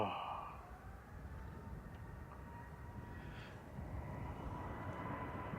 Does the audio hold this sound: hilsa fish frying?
no